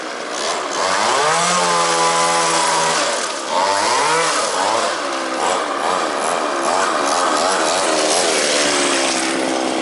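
A vintage Raco Jack Rabbit RC car's small engine revs loudly and continuously, its pitch climbing and dipping with repeated throttle blips, close by and with no talk over it.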